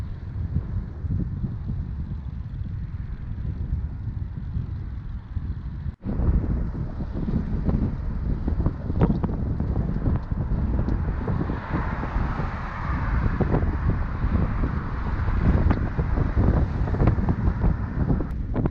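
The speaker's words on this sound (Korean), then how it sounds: "바람이 엄청 불어서 비가 내립니다." Strong wind buffeting a microphone during a bicycle ride along the Nakdong River, a loud, continuous roar with gusty swells and a brief dip partway through.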